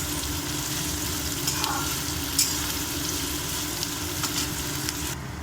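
Sliced onions fry steadily in a pan for a masala gravy, giving a constant, even sizzle with faint stirring ticks throughout and no voices.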